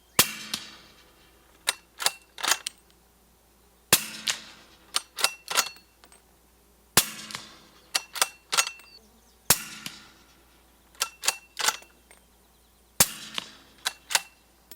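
Rifle shots from a Ruger American hit steel targets outdoors, sharp and fairly faint. They come in quick clusters of four or five cracks, separated by short pauses.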